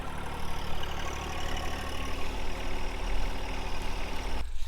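A tractor engine runs steadily nearby, a continuous low, rumbling idle that holds without any talk and drops off abruptly at the end.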